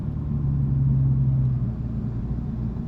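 Steady low exhaust drone from the axle-back exhaust of a 2022 Lexus IS350 F Sport while driving, heard from the cabin as a loud, constant rumble with a humming tone that swells briefly in the middle, with no talking.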